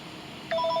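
Telephone rings partway through, a short electronic ringing tone with repeated bright pulses rising sharply out of a quiet indoor background.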